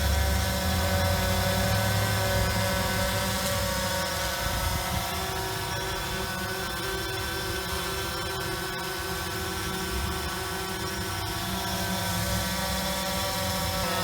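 A small drone hovers and flies with its propellers buzzing steadily, a constant close whine that shifts slightly in level as it is controlled, with no talk.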